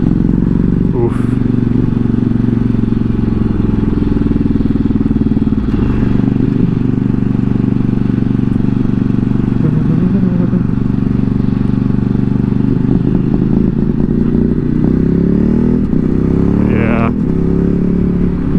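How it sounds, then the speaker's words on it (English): A Ducati Streetfighter 848 motorcycle with a slipping clutch revs and accelerates roughly, its loud, close engine droning continuously with wavering pitch for the whole stretch. "Clutch is for sure slipping. You guys see how that accelerates, how rough it is?"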